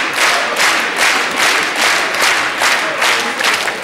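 A TV studio audience gives loud, sustained applause, thick rapid clapping swelling in gentle waves throughout without a break.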